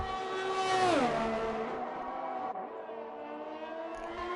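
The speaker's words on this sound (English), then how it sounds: "So a lot of cars on the outlap here setting up for their final run." Race cars from a racing video game on an outlap at a French circuit, including a Ferrari, roar past one after another, with a loud engine pitch sweeping down as one passes close, then several engines droning steadily together.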